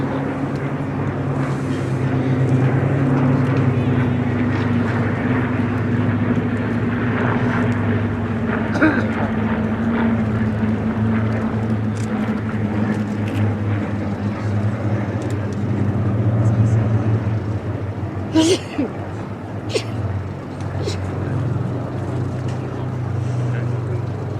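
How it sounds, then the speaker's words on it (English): Spitfire Mark 1 fighters fly past at the Flying Legends airshow at Duxford. Their engines make a sustained, droning hum that rises and fades gently, with commentary heard over it. "Flanked by 2 of the baby Spitfires, as Trevor is wont to call them, the Mark 1s."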